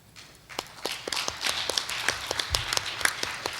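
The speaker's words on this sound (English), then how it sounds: "welcome applause." A conference audience breaks into applause, starting sparse and swelling quickly into dense, steady clapping that carries on to the end. There is no speech.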